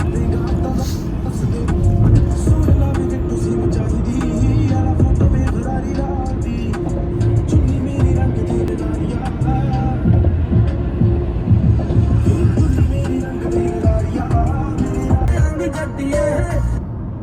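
A car drives onto the motorway heading out of Lahore toward Faisalabad, with a steady loud road rumble and low engine throb filling the cabin throughout, and voices mixed in.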